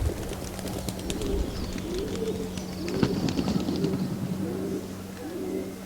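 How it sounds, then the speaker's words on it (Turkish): Pigeons cooing among the rock-carved dovecotes of a Cappadocia valley near Göreme; repeated soft, rolling coos in a regular rhythm at moderate distance, over faint outdoor ambience and a low background hum. "Vadide ilk dikkat çeken yapılar kayalıklara uyulmuş sayısız güvercin."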